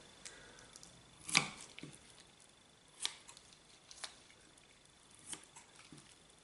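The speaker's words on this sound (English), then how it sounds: "I prefer scissors. So I'm going to cut out all the excess fat." Kitchen scissors snip excess fat off a raw chicken breast, a few sparse, quiet clicks and cuts spaced out over a hushed background.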